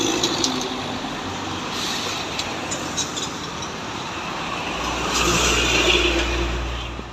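A Pai Maham bus unit rolls by on the road, a deep engine rumble rising toward the end over a continuous wash of passing-traffic noise.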